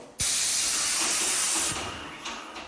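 An SM2400 Pro airless paint sprayer spraying wall paint at 110 bar bursts into a loud, steady, broad hiss that holds for over a second, then eases slightly and continues a little softer.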